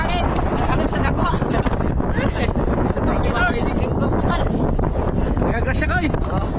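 Strong wind buffets the microphone on a boat at sea, a loud, continuous gusting roar that covers everything, with people speaking faintly underneath.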